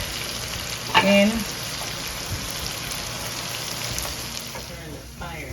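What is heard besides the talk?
garlic frying in a pan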